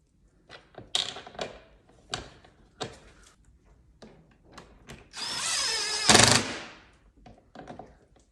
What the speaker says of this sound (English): you're gonna put those 2 long black screws that came in the kit with the number 25 Torx